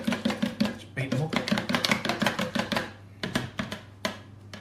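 A whisk beats eggs for pavlova in a bowl with fast, rhythmic tapping strokes, steady for a few seconds, pausing briefly, then resuming, while people talk nearby.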